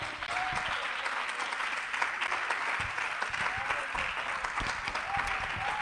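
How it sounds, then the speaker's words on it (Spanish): Church congregation applauding for Jesus during a Spanish-language sermon, a dense, steady wash of many hands clapping close and loud throughout, with no speech over it. "Denle un aplauso a Jesús"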